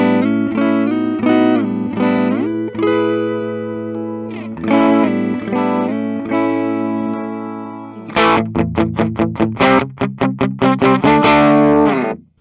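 Dean ML electric guitar with EMG active pickups on the clean channel: ringing arpeggiated chords and sustained notes give way to quicker, choppier strummed stabs near the end, loud and close with no voices.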